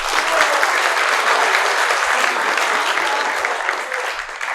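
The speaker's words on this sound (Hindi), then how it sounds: "इसमें ताली बनती थी" Sustained, dense audience applause at a live show, loud and steady throughout before easing slightly toward the end, with no talking over it.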